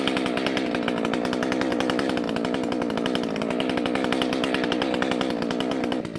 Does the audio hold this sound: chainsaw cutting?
yes